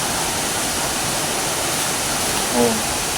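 Buruwisan Falls roars as a steady, loud waterfall, a dense unbroken wash of water filling the whole stretch, with a brief faint voice-like tone near the end.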